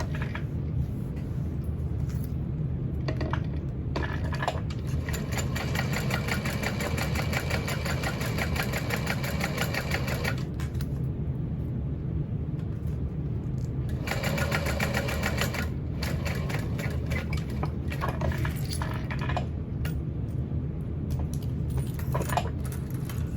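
A sewing machine stitching a backpack runs in steady, rapid bursts of mechanical whirring and clattering, starting and stopping several times over a low hum, close by and with no talking.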